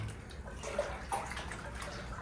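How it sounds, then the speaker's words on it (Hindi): Flowing water inside a cave of a Vaishno Devi temple replica in Chandigarh: a steady, soft wash of running water with a few faint drips, fairly quiet and even, with no one talking. "माता के इस गुफा में ये देखो जी पानी ही पानी है, और पानी बहुत ठंडा है।"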